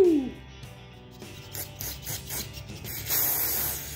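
Compressed air hisses in short close bursts into a disassembled 3/8 inch ratchet, blasting grit out of its innards with rough sputtering and rattling.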